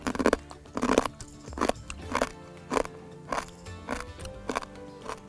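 Someone bites into a dried scorpion claw, producing a series of loud, close crunches in a steady chewing rhythm, about eight crisp bursts with no talking.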